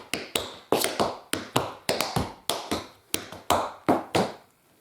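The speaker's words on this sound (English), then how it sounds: "I want to do 2 5-count riffs forward and then do a paddle with the heel in the middle." Tap shoes strike a hard floor in quick five-count riffs with a heel paddle, a dozen or so crisp, close, evenly spaced clicks grouped in short bursts, with no voices.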